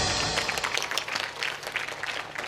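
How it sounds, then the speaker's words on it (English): An audience at a school event breaks into applause, a dense, steady wash of clapping hands filling the space, loud and continuous throughout. "give him a round of applause"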